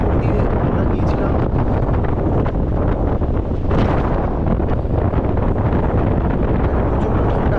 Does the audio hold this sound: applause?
no